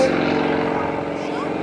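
Propeller airplane flying aerobatic manoeuvres at an airshow, a steady engine drone with slowly shifting pitch, moderately distant, under a commentator's voice.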